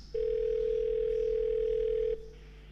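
A telephone call placed by an AI voice to a hairdresser's salon, heard as a steady, loud single tone lasting about two seconds before cutting off to a faint residual hum, with no talking.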